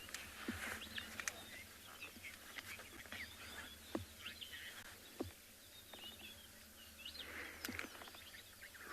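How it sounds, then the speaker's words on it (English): Birds calling faintly in the distance in the South African bush at Phinda, including an eastern nicator, with scattered chirps and whistles over a steady low background hum and insect noise. "there's quite a special one here in this part of South Africa called an eastern nicketer"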